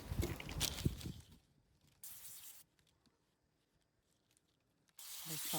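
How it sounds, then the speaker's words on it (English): Spray oil misted onto sheets of phyllo dough in short hissing bursts, separated by quieter gaps, close up with some kitchen handling noise. "I'm spraying spray oil on Philo"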